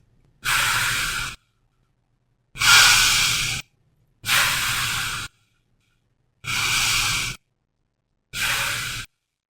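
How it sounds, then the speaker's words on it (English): Slow, deliberate breaths in a mindful breathing exercise, five long airy exhalations spaced evenly with quiet pauses between, close and clear with no talking. "Let me teach you about mindful breathing."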